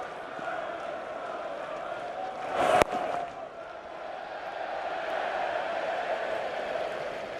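A big cricket crowd at the 2013 Friends Life T20 Final roars after a single run, a broad steady din that swells, broken by one sharp slap-like crack, then rises again into a sustained rumble.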